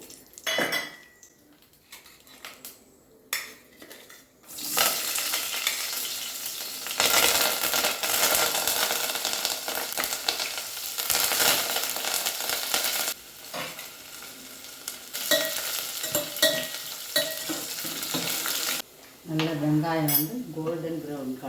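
Hot oil sizzles loudly as whole garam masala spices, cinnamon and cloves, fry, with stirring and occasional metal utensil clinks against the pan.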